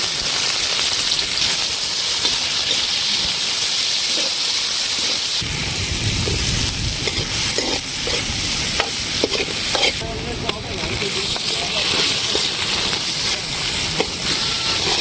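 Onions sizzle loudly in hot oil for village-style Bengali chicken kosha, a steady crackling hiss broken by scraping stirs and clatter of a spoon against the pan.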